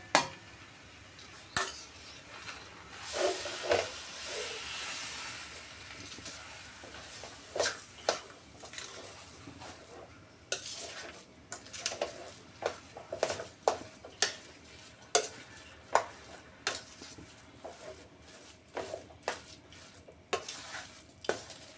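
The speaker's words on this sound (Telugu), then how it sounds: "మంచిగా ఈ నెయ్యి అంతా కరిగే వరకు వేయించుకుందాం చక్కెర అంతా కరిగే వరకు వేయించుకుందాం" Ghee and sugar fry in a pan for a lentil and sugar sweet, under a soft continuous sizzle punctuated by many sharp, irregular clinks and scrapes of a utensil stirring against the metal, close and quiet throughout.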